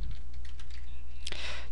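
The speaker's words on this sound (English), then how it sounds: "But let's just type in" Quick, light keystrokes on a computer keyboard typing a search, a short run of soft clicks followed by a sharper tap, heard close and alone over a faint hum.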